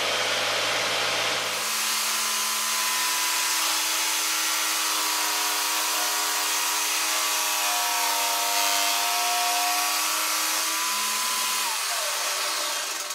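A jigsaw mounted in a homemade table cuts through wood, a steady loud motor whine with shifting harmonic tones that runs almost the whole time, starting abruptly and winding down at the end.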